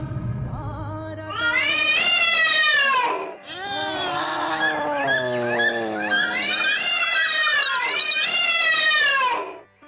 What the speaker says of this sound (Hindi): अभी तक ये अनोखी गधों की, बिल्लियों की, चीलों की ध्वनि आ रही है